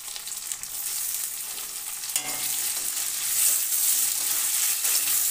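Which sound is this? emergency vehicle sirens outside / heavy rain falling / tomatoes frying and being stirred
tomatoes frying and being stirred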